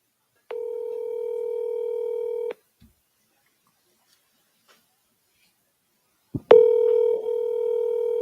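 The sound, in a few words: voicemail recording tone on a phone call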